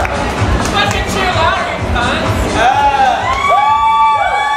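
A crowd at a drag show competition finals in a nightclub cheers, whoops and shouts loudly and continuously, with rising whistles and cries near the end over steady crowd babble.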